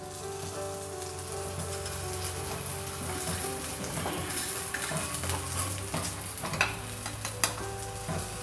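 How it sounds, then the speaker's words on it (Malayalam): A potato pancake, just flipped, fries over low flame in a pan with a continuous crackling sizzle and scattered spattering pops, steady and close throughout. "ഇപ്പോൾ ഒരു സൈഡ് ഇത് മൂപ്പായിട്ട് നമുക്ക് തിരിച്ചിടാം."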